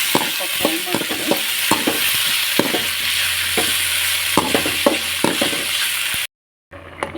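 Dal with Malabar spinach sizzles steadily in a pan, with repeated sharp clinks and scrapes from a spoon stirring it and a brief silent cut near the end.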